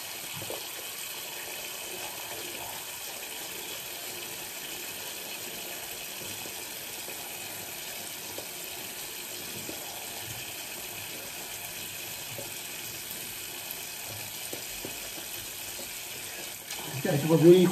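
Hot water runs steadily from a tap during a traditional shave, a continuous faint hiss that swells briefly near the end, with someone talking quietly over it.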